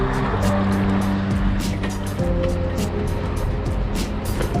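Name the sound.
cars queuing at a border crossing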